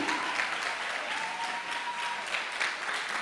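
A church congregation applauds together, a dense continuous clapping that fills the room evenly at moderate volume, with faint voices mixed in.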